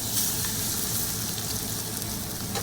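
A ribeye steak sizzles steadily in a hot pan after being flipped and seared for a char. The loud, even frying hiss is close and continuous, with no talking.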